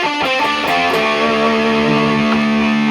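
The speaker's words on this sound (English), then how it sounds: "now you can hear that classic hum. We're into single coil mode." Distorted Gibson Les Paul Classic electric guitar in single-coil mode sustaining chords with a bright, buzzy tone and a faint underlying single-coil hum, played loud and alone.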